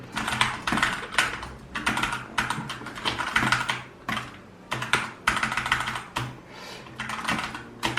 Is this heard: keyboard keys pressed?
yes